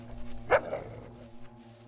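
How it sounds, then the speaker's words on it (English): A single sharp dog bark from a companion dog in the video game Fable 2, close and clear over a low ambient game soundtrack. "Where are you barking at?"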